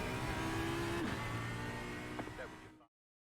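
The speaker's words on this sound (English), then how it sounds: "That's a lap around Bathurst in the Audi." Audi R8 LMS EVO II GT3 race car engine lapping Bathurst in iRacing: a loud, continuous, close engine drone that drops in pitch around the middle and again later, cutting off abruptly near the end.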